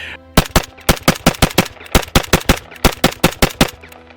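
A Yugo AK rifle fitted with a muzzle brake fires a rapid string of about eighteen sharp, loud, concussive shots in an uneven cadence, each crack ringing out close and alone.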